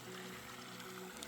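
Floodwater rushing fast down a swollen stream on an off-grid homestead, a steady broadband wash of flowing water that stays even and close throughout, with no voices.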